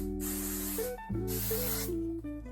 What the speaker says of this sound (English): I take hairspray